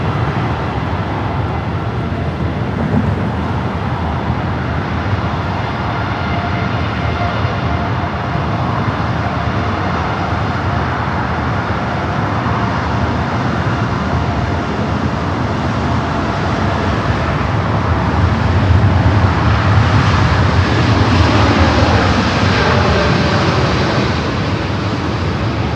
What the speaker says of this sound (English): We do have that Dreamliner now rolling down